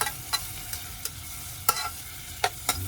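Chili with ketchup stirred in a pot at camp, a soft steady sizzle broken by a series of sharp spoon scrapes and knocks against the pot, close and alone.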